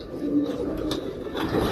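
A pigeon of the Imam Din breed gives soft, low coos nearby, brief and partly mixed with murmured voices in the background.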